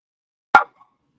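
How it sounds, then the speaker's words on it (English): A single loud, close dog bark at the mailman, one sharp burst followed by a faint short trailing yip. "Winston's going to bark"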